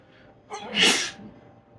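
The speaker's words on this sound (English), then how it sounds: "probably look horrible when I sneeze" A single loud, close human sneeze with a short inhaled build-up and a sharp burst, alone and without talk.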